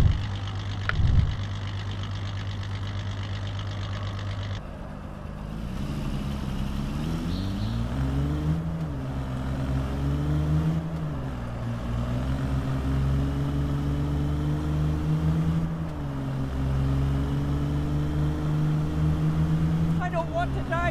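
Steady droning engine of a taxi car in a mobile racing taxi simulator game, with rising and falling revs as it drives, continuous and fairly loud, after a brief opening of other game sound.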